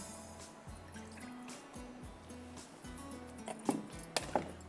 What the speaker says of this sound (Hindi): इसमें मैं डाल रही हूँ तेल के साथ थोड़ा सा पानी